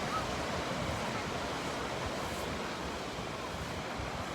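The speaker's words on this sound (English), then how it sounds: "sound of the ocean." Ocean waves wash continuously onto a sandy beach, a steady broadband roar with some wind buffeting the microphone and no distinct breaks between surges.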